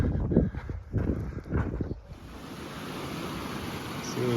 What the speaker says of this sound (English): This is Rock Creek